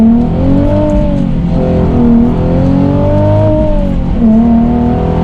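A Nissan Nismo 370Z's naturally aspirated engine pulls hard under acceleration, its loud, smooth note climbing steadily through the revs, dipping briefly at shifts and rising again, heard from inside the car with no talking.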